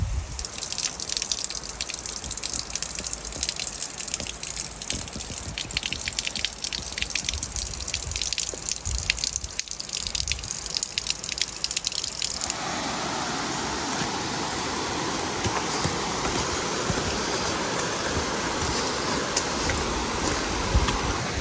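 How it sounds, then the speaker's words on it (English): Zigzag River flowing at a trail crossing on the Pacific Crest Trail in Oregon: a steady, loud, close rush of moving water that runs unbroken throughout, its tone shifting halfway as the vantage changes, with no talking. "Just got to the Zigzag River."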